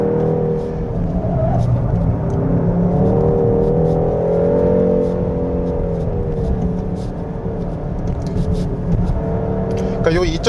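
A 2024 Hyundai Sonata N Line 2.5T on a winding mountain road, shifted manually: a steady, close engine drone with tonal harmonics that rise and ease over about ten seconds.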